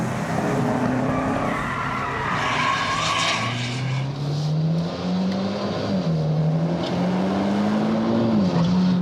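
Mitsubishi Lancer Evo X driven hard on a race track, with loud, sustained tire squeal sliding in pitch through corners over a continuous engine roar, close and with no talking.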